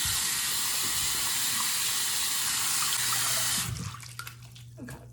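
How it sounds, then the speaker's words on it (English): Tap water runs steadily from a faucet as soap foam is rinsed off hands, a loud broadband rush that cuts off abruptly near the end, leaving a few faint drips and a low hum. "Now we can rinse out the foam."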